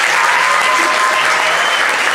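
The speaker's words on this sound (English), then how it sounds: "let's give him a round of applause here" Dense, loud applause from a crowd at a high school Air Force ROTC ceremony, a continuous even wash of many hands clapping with no gaps.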